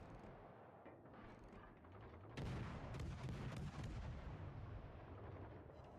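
Warship guns firing in the naval video game World of Warships Legends, a heavy burst of booming salvos rising over a dense rumbling battle backdrop, with no talking.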